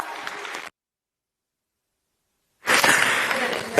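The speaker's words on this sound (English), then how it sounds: "Please do give him a huge round of applause" Crowd applause at a provincial sports awards ceremony for an award recipient, heard in two bursts of dense clapping separated by a couple of seconds of total silence, the second burst louder and fuller.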